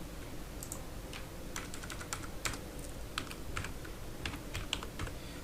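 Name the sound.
typing text into Elementor tooltip on keyboard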